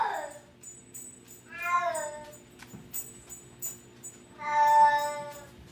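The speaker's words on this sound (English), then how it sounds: "Can you let the cat out? She wants to go outside." A house cat meows repeatedly to be let outside, with several drawn-out calls spread across a few seconds, fairly close and alone against a quiet room.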